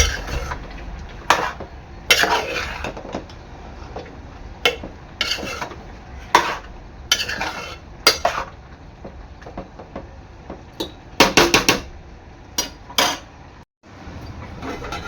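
Okra cooking in a pot, stirred with a metal spoon, giving repeated clinks and scrapes against the pan in irregular bursts, with a brief dropout near the end.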